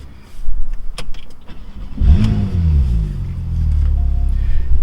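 A Porsche 911 Targa 4S pulls away, its engine rising in a low, loud drone after a few faint clicks and rattles, then holding a steady rumble.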